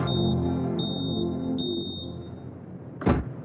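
A home smoke alarm set off by burning food on a stove emits a steady, piercing electronic tone in repeated long beeps, close and loud, followed by a single sharp knock near the end.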